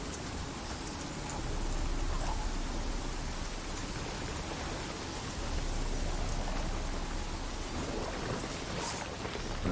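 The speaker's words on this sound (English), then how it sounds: "Looks like rain." Rain pours in The Witcher 3, a broad steady wash of falling water with a low rumble beneath that swells slightly midway, no voices over it.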